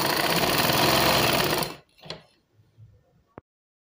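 Sewing machine stitching a fabric border runs in a fast, loud, continuous whir for under two seconds, then stops, leaving a few soft handling clicks and a sharp tap.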